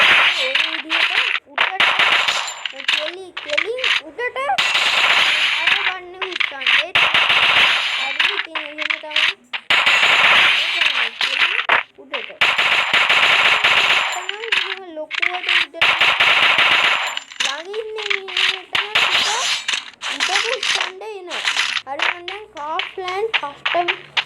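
Counter-Strike match gunfire, rapid bursts of automatic shots and crisp clinking repeating through the round, loud and dense, with someone talking in between and over the shooting.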